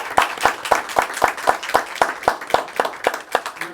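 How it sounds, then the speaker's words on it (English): A small group at a town council meeting claps in a steady, even rhythm of about a dozen distinct hand claps. The clapping is close and moderately loud, with no talking over it. "Let's everybody give these ladies a round of applause for their accomplishments."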